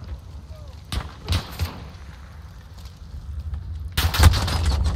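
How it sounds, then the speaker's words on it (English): Call of Duty Modern Warfare gunfire in a hardcore team deathmatch on the Crash map comes as a few sharp, fairly distant bursts with a louder cluster at the end, over a low background rumble. "I hate it when people are shooting at me."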